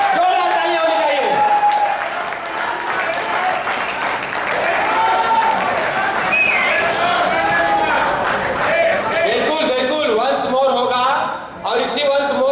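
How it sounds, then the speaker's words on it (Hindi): Audience at a heroic-verse poetry recital breaks into loud, sustained applause that swells and continues for several seconds while a host speaks over it. "तालियां तालियां, जोरदार तालियां होनी चाहिए।"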